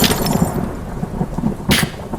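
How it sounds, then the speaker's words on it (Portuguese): Sharp thunder crack over steady rain in a stormy night scene, with a rumbling wash throughout and a sudden loud burst near the end; no talking. "Porcaria de trovão."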